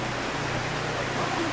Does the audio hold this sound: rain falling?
yes